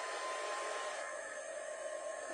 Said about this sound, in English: I've got me hot gun thing here, so I'll just give it a little dry.